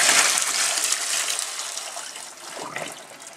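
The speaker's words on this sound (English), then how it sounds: "just going to tip these through the colander." Hot water and blanched mushrooms are tipped into a colander in a kitchen, producing a loud, close gushing pour that tapers off, with a second brief splash near the end.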